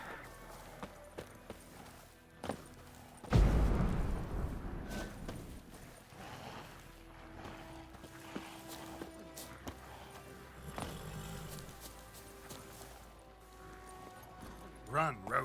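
A horse gallops in the video game The Witcher 3: Wild Hunt on PS5, its hoofbeats thudding in a quick clip-clop under game sounds, with a voice speaking over parts of it.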